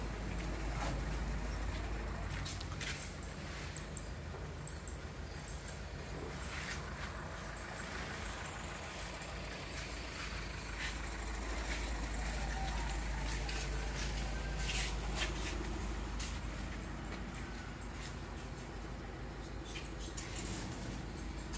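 A large rice mill oven dryer machine with 17-ton capacity runs steadily, a continuous loud mechanical drone with low rumble and rattling clatter throughout, close by with no break.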